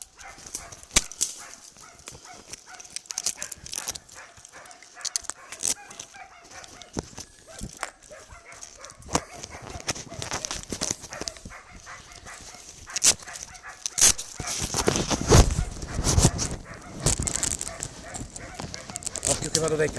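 Hunting dogs bay at a wild boar cornered in dense brush during a boar hunt near Bore, Parma, with scattered sharp barks rising toward the end, mixed with someone talking and outdoor rustling.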